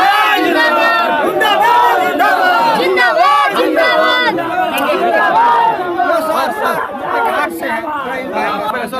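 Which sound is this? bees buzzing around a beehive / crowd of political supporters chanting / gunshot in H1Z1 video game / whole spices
crowd of political supporters chanting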